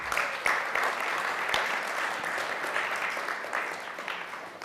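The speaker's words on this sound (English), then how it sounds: "How about a round of applause?" Audience applause at a healthy community collaborative expo, a steady wash of many hands clapping at even loudness, with a few sharper claps standing out, and no one talking over it.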